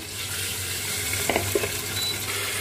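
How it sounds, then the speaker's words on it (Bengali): Potato pieces fry in a pan on high flame while being stirred, a close, steady sizzle with a few brief scraping knocks from the stirring. "আলুর টুকরো চলে গেল, একটু নাড়িয়ে দিলাম, একটু হাই ফ্লেমে দিয়ে দিলাম, একটু নাড়িয়ে দিলাম।"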